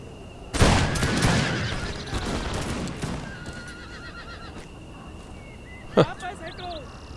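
Musket volley fire in Empire Total War battle with Polish-Lithuanian forces, a loud ragged burst of shots followed by a horse neighing and distant crackle, under someone talking.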